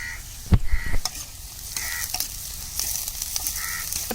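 Onion with crushed garlic cloves sautéing in a pan for bitter gourd curry, a steady close sizzle broken by a few sharp spoon knocks and scraping stirs, no voices.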